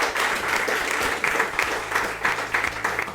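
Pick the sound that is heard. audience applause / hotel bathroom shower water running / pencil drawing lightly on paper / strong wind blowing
audience applause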